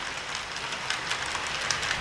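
An HO-style model train of empty cement cars rolls along a layout, giving a steady, even rumble and wheel noise close by with no talking.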